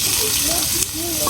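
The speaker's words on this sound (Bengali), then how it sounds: "প্রথমে সোয়াবিন ভাজা নিব" Soybean chunks fry in hot oil outdoors, giving a steady, dense sizzle that runs without a break through the short moment, close and fairly loud, with a brief stir or clatter near the middle.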